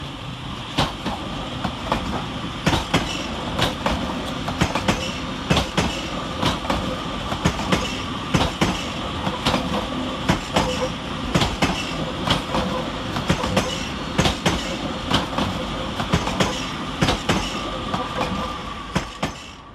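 Northern class 331 electric multiple units, 331025 coupled with 331018, pull into Manchester Piccadilly on the 0902 Manchester Airport to Blackpool North service, with steady rail rumble and a regular clickety-clack of wheels over joints throughout, close and loud.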